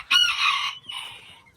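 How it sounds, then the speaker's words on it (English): A blue laced cockerel lets out a loud, close crow followed by a shorter drawn-out call, with no talking over it. "We got one of our blue cockerels right here."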